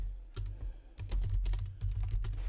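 Notes typed quickly on a computer keyboard, a dense close run of key clicks with a brief pause near the start, no voice over it.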